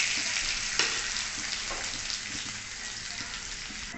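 Dried red chillies, salt and turmeric hiss and sizzle in hot oil for a vegetarian potato and pointed gourd curry: a steady, close, bright frying crackle with no talk.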